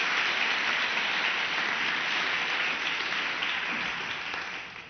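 An audience applauds at a Barcelona literary talk: dense, steady clapping from a sizable crowd, sustained for several seconds and tapering off at the end.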